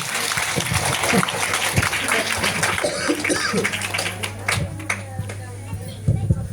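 An audience at a talk breaks into sustained clapping, a dense crackle of many hands close by, with a voice speaking and some laughter mixed in.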